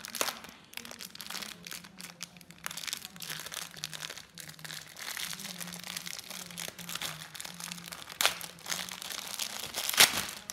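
A LOL Surprise chocolate Easter egg is unwrapped and broken open, with steady crinkling and crumpling of foil and plastic wrapping throughout. A few sharper crunches and tears are heard, and a low hum runs underneath.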